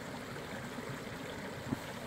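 Cold stream water flows at a Pacific Crest Trail spot in a burn area, a faint, steady wash and trickle heard alone and unchanging throughout.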